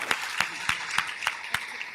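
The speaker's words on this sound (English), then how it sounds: "Let's give them a round of applause." Audience applause at an awards ceremony, a quiet steady patter with a few sharper claps standing out at a regular beat, heard from a distance with no talk over it.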